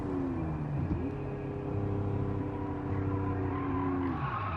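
Car braking hard and skidding in the Gran Turismo racing game, a sustained tire squeal over steady engine roar lasting several seconds, loud and continuous with no talking.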